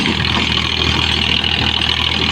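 Tractor running a rotavator through deep tillage in second gear on a farm field, its steady diesel drone loud and continuous, with no pauses and no voices over it.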